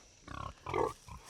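Pigs on a mule-powered farm in Kentucky give a quick run of grunts and a louder squealing grunt, close by, with no talk.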